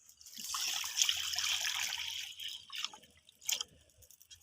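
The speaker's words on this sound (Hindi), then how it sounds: "अब मैं कढ़ाई में पानी डालूंगी।" Water poured from a container into a kadai (wok) set on a stove, a steady splashing trickle with a few louder splashes, close and fairly quiet, no voices.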